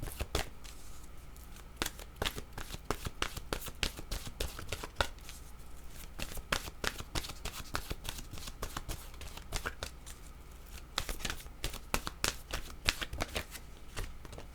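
Oracle cards are shuffled continuously in a steady stream of crisp, papery riffles and taps, close to the microphone, with no talk over the sound.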